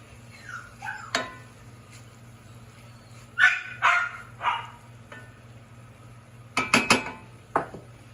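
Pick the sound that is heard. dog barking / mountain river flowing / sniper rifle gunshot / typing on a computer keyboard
dog barking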